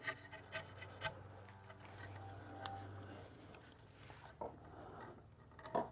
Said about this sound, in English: at least that's my file and not one of my chisels